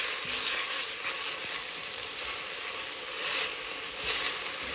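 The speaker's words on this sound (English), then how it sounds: "now we're gonna saute them a little bit to make them a little softer" Steady, loud sizzling of carrots sautéing in a hot pot over high heat, a continuous crackling hiss with occasional brief stirring surges, no voices.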